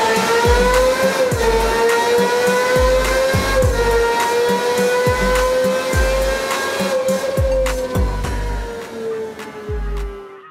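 A hypercar's 6.5-liter V12 producing 1,160 horsepower holds a loud, steady, high engine drone while accelerating. A heavy, regular thumping beat pounds beneath it throughout.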